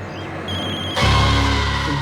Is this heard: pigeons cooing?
no